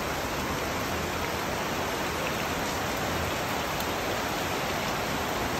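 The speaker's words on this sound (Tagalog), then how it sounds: "Ayan guys, nakikita nyo kung gaano kalakas ang ulan." Heavy rain pours down in Novaliches as a dense, steady wash of falling water, loud and unbroken, with no voices over it.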